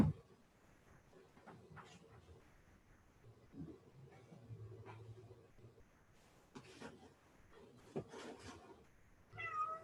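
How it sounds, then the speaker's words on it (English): A cat meows several times at close range, short plaintive calls scattered over a quiet background, with faint murmured talk between them. "There's a cat."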